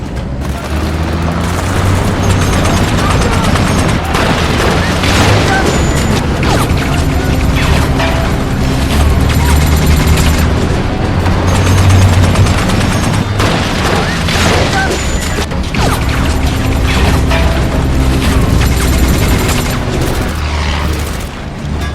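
Dense, continuous battle noise from a militant gunfight in a war film set in Mogadishu, with repeated booms, bursts and crashing impacts running loudly throughout over a rumbling low score.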